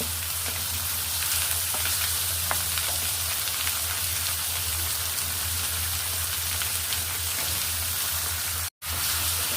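Paya (goat or beef trotters) frying in a pan with a dense, steady sizzle close by, constant and loud throughout, with no one speaking.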